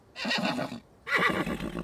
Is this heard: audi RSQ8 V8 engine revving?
no